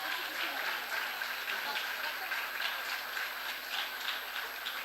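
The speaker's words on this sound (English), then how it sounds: "Give them a round of applause." Steady applause from a crowd at a school award function, even and moderately loud throughout, with a faint voice or two in the background.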